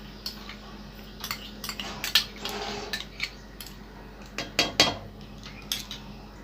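Ghee spooned into white oil in a cooking pan while making basanti pulao, heard as a series of close metallic spoon clinks and taps against the pan over a steady low background hum.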